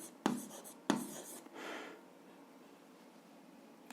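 Pen or marker strokes scratch briefly during an algebra lesson, two sharp taps followed by a short writing scrawl, close and quiet with no talk.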